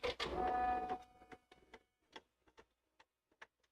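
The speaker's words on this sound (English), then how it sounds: "we have metallic thread running at 400 stitches a minute. So we're going to hit start" A multi-needle embroidery machine sewing metallic thread at 400 stitches a minute: a whirring start followed by sparse, crisp ticking clicks at irregular intervals, close and quiet, with no talk.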